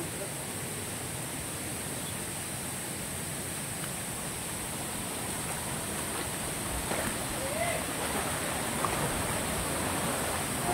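Steady broadband roar of the waterfall at Hanumanpur near Ratnagiri, where children swim below, continuous and fairly loud throughout with faint voices in the background.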